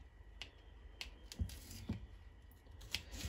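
A kitchen knife dicing bell pepper strips on a cutting board, several crisp separate chops at uneven intervals, close and fairly quiet with no talk.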